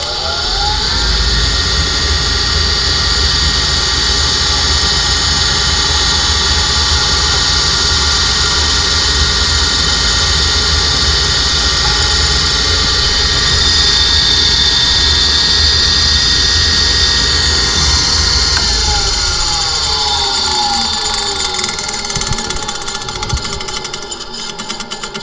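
Blower motor of an old Ruud furnace running, a loud continuous whirring roar with a gritty grinding layer and sustained tones that shift slightly, close up and unbroken.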